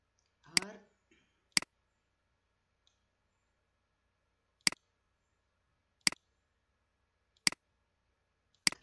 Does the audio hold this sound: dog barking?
no